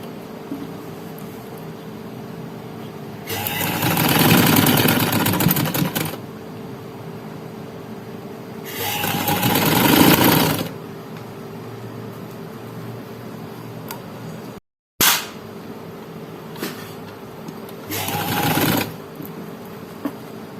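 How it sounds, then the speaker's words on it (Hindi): A sewing machine stitching a strip along a neckline runs in two long bursts of steady whirring, then gives a few shorter runs, with quiet room noise between them and no talk. "पाँव के फासले से सिलाई लगाऊंगी"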